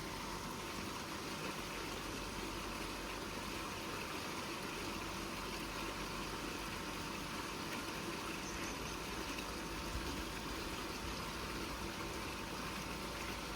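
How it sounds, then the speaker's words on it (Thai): Recirculating waterfall pouring steadily into a backyard fish pond, a constant broadband splash and rush with no breaks, close and moderately loud, with no voices. "การมีน้ำตกหมุนเวียนนี่ก็ดีเด้"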